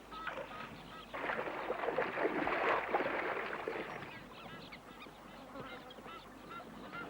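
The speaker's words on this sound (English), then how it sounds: "The Egyptian goose spots the danger." An Egyptian goose honks in the wild near water where a python hunts, a run of harsh, fairly loud calls mid-clip that fade toward the end.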